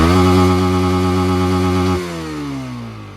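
A Yamaha R15M motorcycle engine held at a steady, loud, close rev with a strong buzzing tone, then dropping back toward idle partway through.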